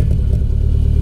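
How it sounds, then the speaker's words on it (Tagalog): Mitsubishi Galant engine idles roughly with a misfire, a loud, close low rumble with an uneven, lumpy pulse across a brief moment, no voices. "Ganito yung tunog ng Galant before."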